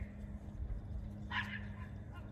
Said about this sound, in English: My mom's dogs are barking.